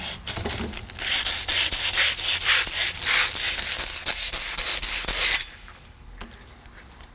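A Ford 8.8 axle part is sanded with abrasive in a steady, close, scratchy rubbing that lasts about five seconds and then drops away to quieter handling sounds.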